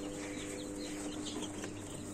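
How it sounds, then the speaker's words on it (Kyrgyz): Ordinary local hen chicks, raised for sale, peep faintly and continuously in a noisy pen. The soft chirps blend into a steady background hum. "Булардын пародасы өзүбүздүн обычный эле жайдаар тооктун чөчөлөрү."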